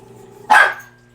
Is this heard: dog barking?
yes